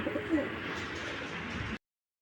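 Racer pigeons at a pigeon sale cooing softly in a low, steady warble, close by and alone, cutting off abruptly at the end.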